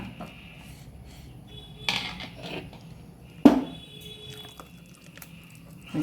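Coarse ground boiled rice batter is moved into a vessel with quiet, intermittent scrapes and clinks of utensils, punctuated by a couple of sharper knocks against the pot.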